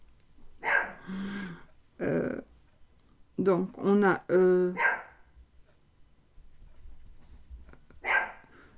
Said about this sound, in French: je vais la descendre, parce que sinon, elle va aboyer tout le temps